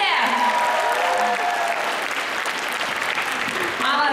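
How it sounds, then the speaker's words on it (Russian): An audience at a cosplay stage contest claps in sustained, dense applause, loud and continuous throughout, with voices mixed into the crowd noise. "Аплодируйте!"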